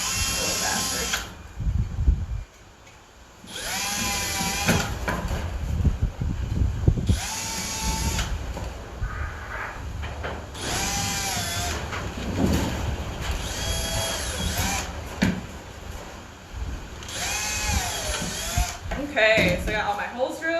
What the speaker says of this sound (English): Okay, so I got all my holes drilled from here.